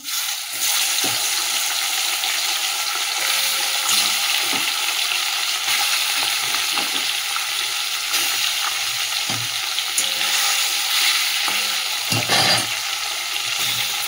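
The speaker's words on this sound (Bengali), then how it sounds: "এই তেলের মধ্যেই আমি ভেটকি মাছের কাঁটাগুলো ভেজে নেব" Loud, steady sizzling of bhetki fish bones frying in hot oil, with occasional stirring scrapes and soft clinks breaking through the constant crackle.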